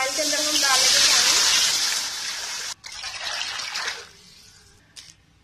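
Water pours into a wok, a karahi, for cooking rice, giving a loud, steady splashing gush that fades after a few seconds and ends in faint drips.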